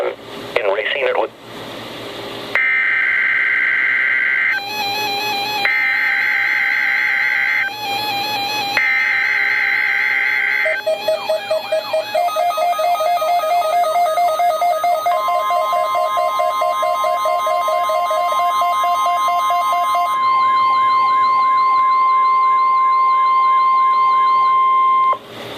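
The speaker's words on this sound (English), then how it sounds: "This is a weekly test of the NOAA Weather Radio Warning Device." NOAA Weather Radio weekly warning test: a run of shrill data bursts and beeps, then a long steady alert tone and warbling electronic tones, loud and close, with speech among them.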